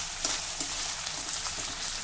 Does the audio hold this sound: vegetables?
yes